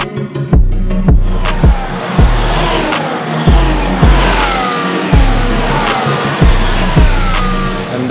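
Formula 1 race cars at the Italian Grand Prix in Monza scream past one after another, each loud pass-by rising and falling in pitch in a rapid, repeating rhythm.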